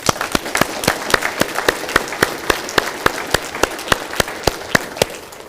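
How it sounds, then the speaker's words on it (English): Steady applause from a crowd at a State of the City address, with sharp distinct claps standing out in a regular rhythm over a dense patter, fading slightly at the end. "Let's give them a round of applause."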